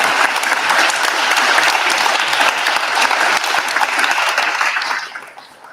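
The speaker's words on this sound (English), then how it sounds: "Give them another round of applause." Sustained audience applause after a law enforcement panel discussion, a dense steady clapping from a large crowd that holds for about five seconds and then tapers off toward the end.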